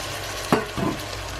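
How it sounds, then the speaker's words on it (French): Wilted spinach and spices for an Indian dhal are stirred in a pan over a steady low sizzle, with one sharp scrape of the spoon followed by a softer second scrape. "Et là, je continue de mélanger."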